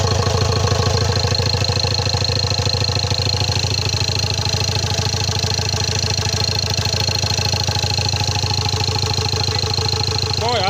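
A rebuilt Ford Ranger TDCi diesel engine runs briefly without coolant water, holding a loud, steady idle with an even rhythmic clatter that never stops for the whole stretch.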